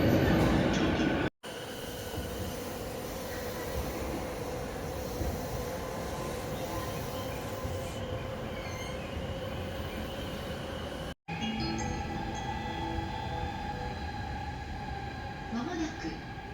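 A Chuo Line Special Rapid train bound for Takao pulls into platform 6 at a Tokyo railway station with a continuous loud rumble of wheels and carriages. Brief gaps break the sound, and station announcements can be heard over the din.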